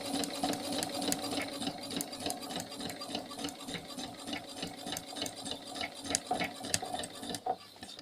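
Sewing machine stitches cushion pieces together, a steady close rapid whirring and clatter of the needle running for several seconds, with no talk.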